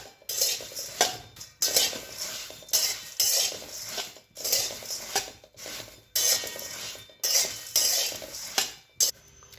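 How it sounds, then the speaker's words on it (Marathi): Puffed rice stirred in a pan to crisp it, a spoon scraping and rattling against the metal in regular strokes about once a second, close and alone. "सगळ्यात आधी मुरमुरे कुरकुरीत करून घ्यायचे आहेत।"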